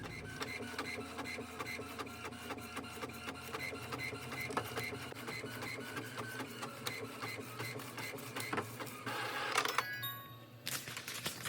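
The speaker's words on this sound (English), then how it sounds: "put it into your printer and print your picture out" A printer runs through a print of a picture onto a sheet of rice paper, with a steady rhythmic mechanical chatter of repeated carriage passes and a brief louder whir near the end.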